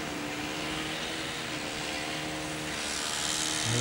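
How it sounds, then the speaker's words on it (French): An airplane coming in to land on the lake behind Château de Prangins, heard as a steady, broad roar that swells a little louder toward the end, with no talking. "Un avion qui arrive là, qui est en train d'atterrir sous le chemin."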